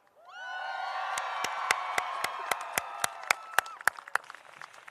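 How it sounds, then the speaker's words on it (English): Graduates at a university commencement ceremony erupt in loud crowd cheering and whooping, then a run of sharp, evenly spaced claps or hits grows louder over the sustained roar. "I want to hear you cheer if you are the first generation in your family to"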